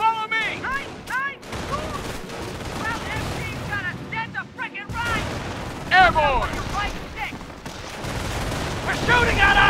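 Company of Heroes battle in the Carentan invasion: bursts of rifle and machine-gun fire crackle repeatedly with heavy booms, loud and dense throughout, while soldiers shout over the chaos.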